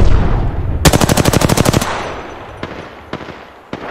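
Machine gun fire in a video game, a loud rapid burst of about a dozen evenly spaced shots lasting about a second, followed by a few isolated single shots over a low background rumble.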